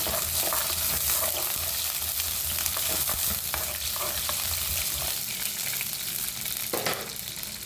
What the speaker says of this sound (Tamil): கடுகு வெந்தயம் போட்டாச்சு உடனே கலந்துடலாம்